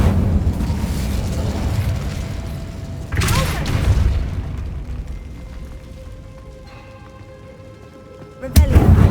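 A fire spell cast in Hogwarts Legacy bursts out as a loud whooshing boom, its blast rolling off into a fading rumble, with a second sharp burst near the end; no one speaks.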